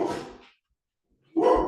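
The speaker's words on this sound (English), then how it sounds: "sorry for the barking" Dogs barking indoors at a UPS delivery driver, two short loud bursts of barking separated by a second of silence.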